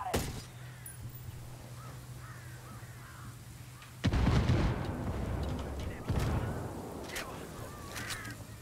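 Heavy artillery rounds strike in the video game Ghost Recon Wildlands, two deep booming blasts a couple of seconds apart with rumbling tails, after a quieter stretch with faint voices and crows cawing.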